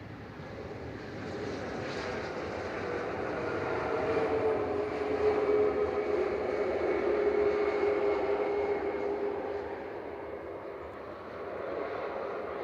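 A Ryanair jet arriving at Manchester Airport from Warsaw, a broad, steady roar that builds, peaks midway and slowly eases, heard from a distance outdoors with no talk.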